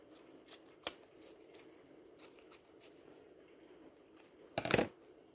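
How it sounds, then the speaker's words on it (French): Scissors snip tracing paper in a quiet craft setting, one sharp cut near the start and a longer, louder cutting burst toward the end, with faint rustling in between. "En papier calque, le mot ho ho ho, je coupe comme ça."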